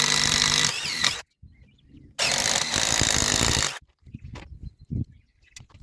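A Parkside power drill with a blunt bit whines loudly in two long bursts separated by silence, followed by faint knocks and handling noises.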